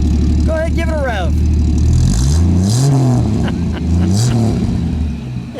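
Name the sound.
1965 AMC Rambler American engine revving, Carter 2-barrel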